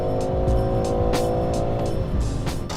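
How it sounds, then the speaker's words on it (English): A 2020 BMW M340i xDrive G20 sports sedan with a single twin-scroll turbo is driven hard around a race track on a cloudy but dry day, a loud sustained engine roar with tonal harmonics and short tire squeals. "you and I are ripping around a track on a cloudy but dry day, yet we're doing it in a sports sedan"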